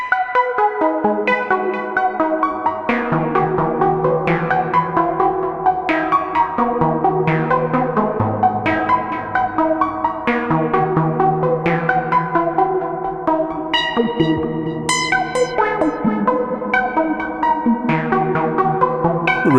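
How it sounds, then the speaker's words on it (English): Sonic Projects OP-X Pro II synth plugin, an OB-X style emulation with XMD modulation, plays a loud, continuous run of rich chordal and melodic notes with pulsing attacks and occasional bright high tones, with no talk. "One thing I like to do with the synth is mess around with the XMD functionality."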